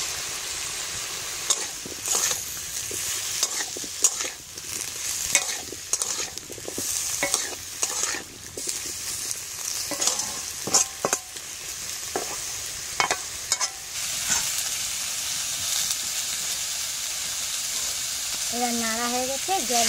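Pumpkin curry sizzles in a pan as it is stirred, with repeated scraping strokes over a continuous frying hiss. A brief pitched sound comes near the end.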